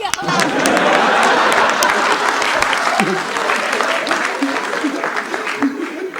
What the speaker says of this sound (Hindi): तो बजाओ सर एक बार जोर से ताली, कलकत्ते वाली कोई कवि ना जाए खाली।